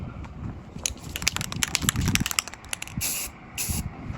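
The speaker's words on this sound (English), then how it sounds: "I am getting ready to spray them" Short bursts of aerosol spray paint hiss outdoors on a windy day, several quick puffs followed by two longer sprays, with wind rumble and handling noise underneath.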